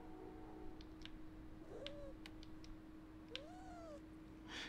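Kitten meowing in the South Park video game The Fractured But Whole, two faint rising-falling mews a second or so apart over a steady low hum and scattered soft clicks.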